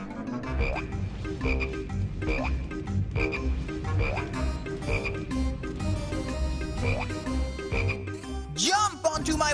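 A cartoon frog croaking in a children's animated series, a run of loud, evenly spaced croaks over a busy music bed, ending with a squeaky rising cartoon sound effect.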